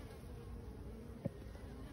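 Honey bees hum softly and steadily at an open beehive, a faint continuous buzz with one brief louder bump partway through.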